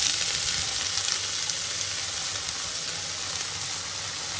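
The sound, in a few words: potatoes frying in oil in a wok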